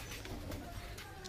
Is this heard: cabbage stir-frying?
no